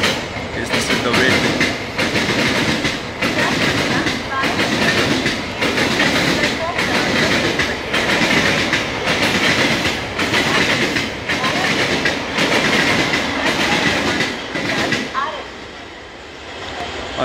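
A train rolls through Andheri railway station platform in Mumbai, loud steady rhythmic wheel clatter over rail joints for most of the stretch before it fades away near the end.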